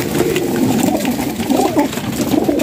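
Pigeons at a pigeon sale in Bahawalpur, soft repeated cooing close by, alone without voices.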